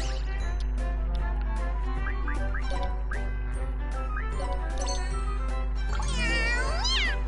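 Video game cat meowing in Disgaea 5, several short mewing calls over steady game music, ending in a louder, drawn-out rising meow.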